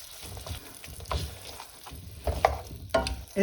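Cooked pumpkin for gnocchi is mashed in a pan with an English potato masher, producing irregular soft squelching thumps and scrapes that come in uneven bursts, with a few louder presses toward the end.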